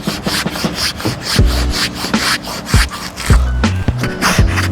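Hand tool scraping rock-solid frozen snow outdoors, heard as a series of close, rough rasping strokes with dull knocks roughly every second.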